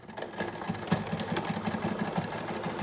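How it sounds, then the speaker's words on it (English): Sewing machine stitching along the edge of a fabric mask tube, a close, steady rapid mechanical whir with fine rhythmic ticking throughout. "we're gonna put it in the sewing machine and try to get it right on the edge there"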